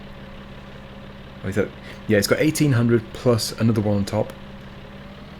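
A tractor engine idles steadily underneath, a low constant hum carrying a heavy 2.2-ton weight on the back, while people talk over it in a farmyard setting.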